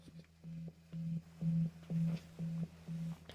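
A steady low tone pulsing on and off in a regular, choppy rhythm, about seven even pulses, a guitar note chopped by a tremolo pedal.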